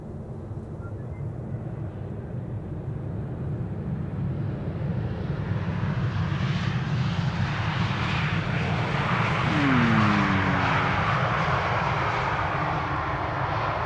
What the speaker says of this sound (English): This is the PHAXD, the fourth and to date latest of KLM's A321neos, arriving from Paris Charles de Gaulle.